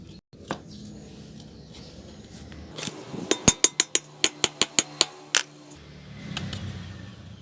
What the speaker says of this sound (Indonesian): Terus kita paku juga di tengah-tengahnya.